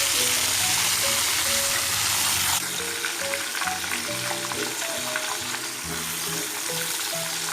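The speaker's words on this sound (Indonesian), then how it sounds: "Setelah minyak panas, masukkan cuminya." Squid pieces dropped into hot oil fry with a loud, steady sizzle that thickens partway through, continuous and close with no voices.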